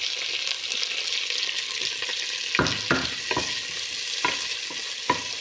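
Vegetables and hotdog slices sauté in a pan for sopas, a steady bright sizzle broken by several sharp scraping stirs of the utensil near the end, no talk.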